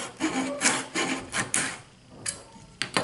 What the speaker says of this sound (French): vous sciez en appuyant sur la scie, en s'assurant que la scie est toujours bien à plat